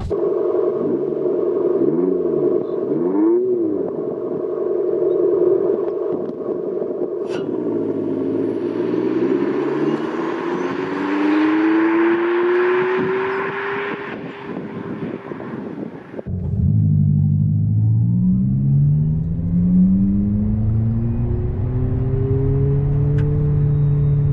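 An Abarth 500e electric car accelerates from standstill with its simulated petrol engine sound, a loud idle burble rising into a swelling, rev-like tone that drops back and climbs again through gear-shift-like steps, heard close in the cabin.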